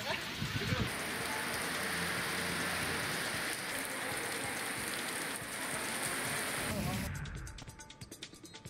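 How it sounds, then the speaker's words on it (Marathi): A heavy stormy downpour roars steadily for several seconds, then eases to scattered drips and patters near the end. "शहरासह ग्रामीण भागात देखील वादळी वारा आणि मेघगर्जनांसह पाऊस झाला।"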